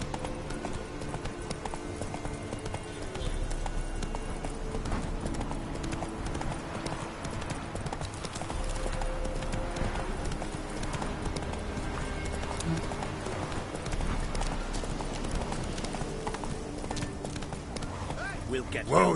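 Hoofbeats of a galloping horse in The Witcher 3 video game, a steady quick clip-clop running the whole way under game music and occasional character voices.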